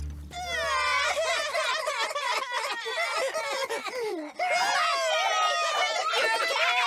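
Cartoon girls scream on a fast amusement ride, a loud, continuous chorus of high, excited shrieks and squeals lasting throughout, with a brief dip before the screaming surges again.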